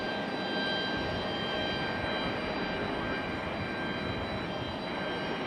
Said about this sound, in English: Sun Country is going to be a beautiful arrival if it arrives on 23 left over there